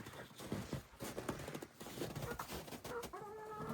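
Chickens and chicks cluck at a farm, a busy, close mix of short clucks and peeps with scattered knocking sounds in between.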